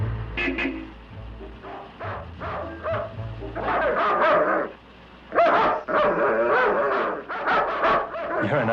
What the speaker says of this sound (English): You're a nice dog.